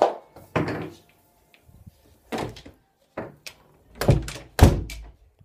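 An indoor door is handled and shut, giving a series of dull, hollow thunks and knocks spaced by quiet gaps, ending in two louder close thuds.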